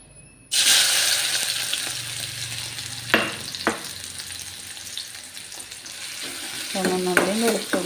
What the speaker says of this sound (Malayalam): ഇതിലേക്ക് ചതച്ച് വെച്ച ചുവന്നുള്ളിയും വെളുത്തുള്ളിയും ഇതിലേക്ക് ചേർത്ത് കൊടുക്കാം